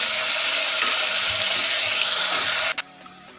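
Tomato, onion, garlic and ginger sizzle in coconut oil inside a pressure cooker, a steady close frying hiss with no talk, stopping abruptly near the end.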